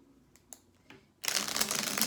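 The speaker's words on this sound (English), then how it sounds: "Let's shuffle up these cards" A few soft clicks, then a sudden dense burst of riffling paper, like a deck of cards being shuffled quickly up close.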